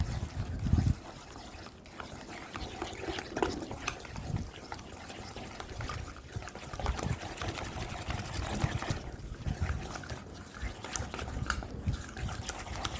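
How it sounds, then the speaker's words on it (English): Water trickles and splashes softly into a bowl of maida (flour) batter for jalebi, with gentle stirring and mixing noises continuing throughout at close range. "we added half cup of water"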